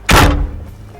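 A Humvee (HMMWV) door slams shut in one loud, heavy thunk with a short low rumble after it, close by and with no talk.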